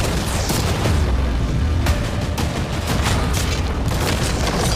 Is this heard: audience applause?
no